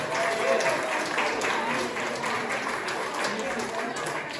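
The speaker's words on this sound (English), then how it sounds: "Please give yourselves a round of applause." Audience at a dance gig in Moate breaks into steady applause, a dense wash of clapping throughout, with voices mixed in beneath the claps.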